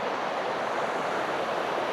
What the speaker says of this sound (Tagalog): Lakas ng ragasa ng tubig par.